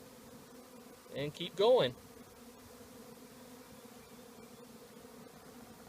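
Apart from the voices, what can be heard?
honey bees buzzing around the hive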